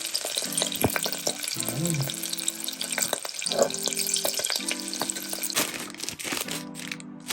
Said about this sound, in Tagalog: Ito, nagluluto rin tayo ng pancit canton.